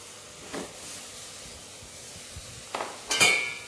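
Apples dropping into foaming hot honey in a saucepan, a few soft clinks and hisses, then a louder sizzling splash near the end over a quiet kitchen background.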